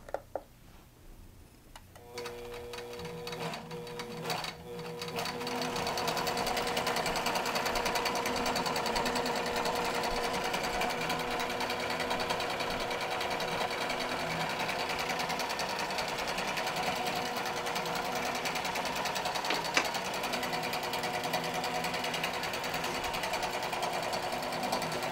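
A QBOT V3 quilting robot drives a sewing machine stitching an edge-to-edge nested quilt pattern, a steady, fast mechanical hum with rapid ticking that starts after a few seconds and runs continuously, moderately close.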